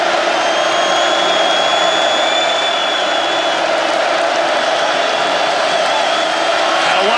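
Big Ten football crowd in the stadium at Michigan State hosting Indiana, a steady loud roar of many voices filling the whole stretch without letup.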